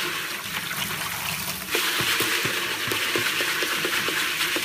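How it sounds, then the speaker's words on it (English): Running tap water rinses freshly cut and polished bullet slices in a sink fitted with a screen, washing off detergent and cleaning agents; a steady splashing stream grows louder partway through, with scattered small knocks and clinks. "I'm just washing out all the detergent we've used and all the cleaning agents."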